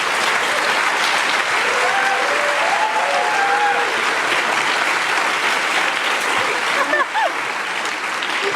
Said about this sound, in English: So again, now louder applause for them.